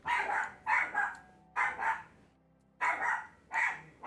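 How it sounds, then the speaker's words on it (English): Dogs bark loudly in repeated clusters of two or three barks with short pauses between, close by and without other voices. "the dogs have the zoomies right now, so they're gonna be a bit loud"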